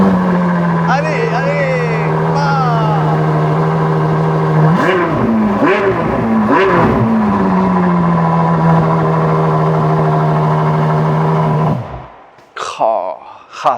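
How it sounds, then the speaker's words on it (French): A naturally aspirated Ferrari V12 idles loudly and steadily, then revs in several rising and falling blips before cutting off abruptly near the end, followed by voices. "C'est un V12 Atmo de chez Ferrari"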